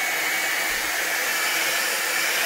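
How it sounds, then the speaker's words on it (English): A blow dryer blasts continuously up close, a loud, steady whooshing roar with no change in pitch while drying alcohol ink on a card. "now I'm going to take my blow dryer and"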